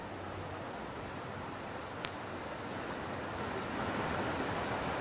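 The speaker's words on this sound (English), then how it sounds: "I'm going to just let you hear the sound of the rushing water." Rushing floodwater pours across a flooded road during Hurricane Florence, a steady broadband wash of noise throughout, swelling slightly louder toward the end, with one brief sharp click partway through.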